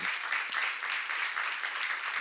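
Congregation clapping in a church service, a faint, even wash of many hands applauding together, steady for the whole stretch with no distinct voices over it.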